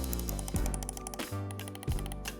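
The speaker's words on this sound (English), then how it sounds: "In terms of the mouse clicks, it's pretty nice." Clicks from a HyperX gaming mouse fitted with Omron switches come through as a handful of sharp, close taps spaced unevenly over a constant low hum.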